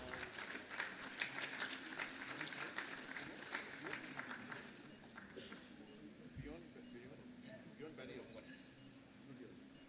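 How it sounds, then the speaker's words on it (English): Audience applause at the inaugural programme of a festival, a broad patter of clapping that starts strong and gradually thins out, with voices talking over it. "A round of applause for Ba Lingdo,"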